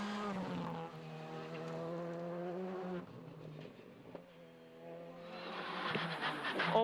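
Skoda R5 rally car on a Belgian rally stage, its engine rising in a strong, buzzing harmonic whine, dropping at a gear change, then revving hard again with gravelly noise near the end.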